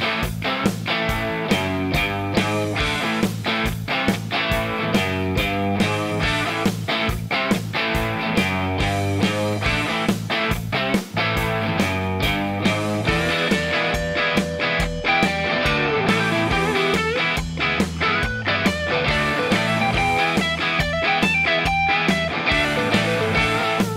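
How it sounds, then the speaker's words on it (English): An electric guitar runs through a ProCo Rat 2 distortion pedal set for overdrive, playing a steady rhythmic tune with a full, driven tone over a backing beat for about twenty-four seconds, no speech. "I also recorded a quick tune for the overdrive sounds, and it sounds like this."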